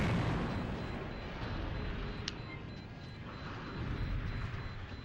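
Heavy battleship cannon fire in the video game Steel Battalion, a dense continuous rumble of booms and blasts, loud and sustained throughout with one sharper crack midway and no talk.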